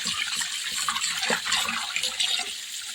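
Water pours and sloshes in a basin during washing, a continuous splashing gush that stays loud and close throughout, with no talk.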